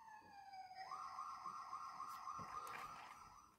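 Toy siren from a Majorette Volvo FMX Rosenbauer aerial ladder platform fire truck, a steady electronic wail that steps up in pitch after a moment and then holds, close and fairly loud with no talking.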